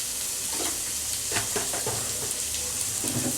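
Onions fry in oil in a pan, giving a dense, continuous sizzle close by with scattered crackles and soft stirring scrapes throughout.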